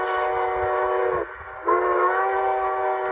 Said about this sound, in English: That's a crossing whistle, that's F2.